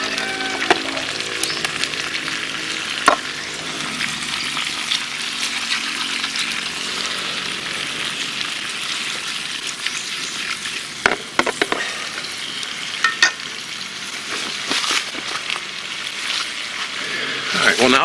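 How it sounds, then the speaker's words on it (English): Potato pieces fry in bubbling oil on a rocket stove, a steady soft sizzle with occasional pops and clinks throughout, while a person talks over it. "Now the oil's bubbling a little bit."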